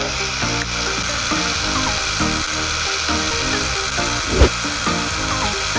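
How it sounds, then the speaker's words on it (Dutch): A power drill with a glass drill bit whines steadily under a hissing, sizzling grind as it bores into a glass bottle, with a brief sharp knock near the end; loud and close throughout. "dan pak ik nu de boormachine met het glasboordje en dan ga ik in het glas boren"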